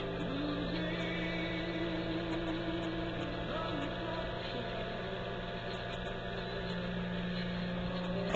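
An SG energizer self-running motor with a piggy-back coil spins on a small motorcycle battery, giving a steady droning hum with stacked tones and faint regular ticking, continuous and close throughout.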